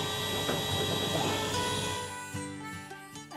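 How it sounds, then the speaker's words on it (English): A vacuum cleaner hoovers out the inside of a door on a vintage 1970s Bedford truck cab under restoration, giving a loud, steady whining drone with a slight dip in the final second. "Filming me hoovering the inside of a door."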